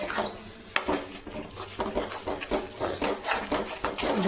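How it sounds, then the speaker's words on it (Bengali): Semolina upma being stirred in a pan after water is added, a spoon scraping and knocking against the metal in a quick irregular rhythm, close and with no one talking. "জলটা দেওয়ার পর এরকমভাবে একটু নাড়াচাড়া করতে লাগবে বেশ ভালো করে"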